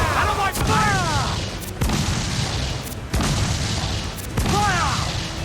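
Ship cannons firing in Assassin's Creed 4 Black Flag, several sharp loud blasts at irregular intervals amid dense battle noise, with shouting voices in between.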